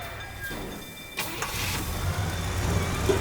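A car engine in the game Teardown cranks and starts, then settles into a steady mid-pitched idle that runs loud and close alongside game noise, with no talking.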